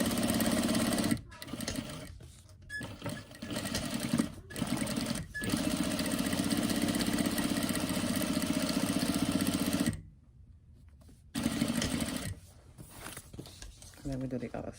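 Sewing machine stitching an apple-shaped fabric face mask, a fast close buzzing run that stops and restarts several times with brief pauses, a long gap near the end, and a voice talking between bursts.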